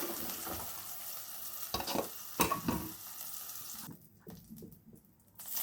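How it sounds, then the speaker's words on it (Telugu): Okra (bendakaya) coated in masala fries in a pan, a steady close sizzle with scraping stir strokes around the middle, then the frying quiets and thins toward the end. "ఇలా బాగా అన్ని మసాలా తగిలేటట్టుగా బాగా కలుపుకొని ఫ్రై చేసుకోవాలండి."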